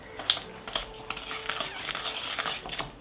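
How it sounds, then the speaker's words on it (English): Butter, sugar and vanilla being creamed together in a bowl, giving repeated scraping and clinking strokes against the bowl, steady and close, with no talking. "You want to cream this till it's nice and fluffy."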